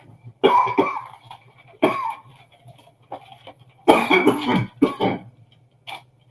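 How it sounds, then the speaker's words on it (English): A person coughs repeatedly in harsh, loud bursts, several throat-rasping coughs separated by short pauses, close to the microphone with no speech. "say you don't cough, and all of a sudden, here comes the cough"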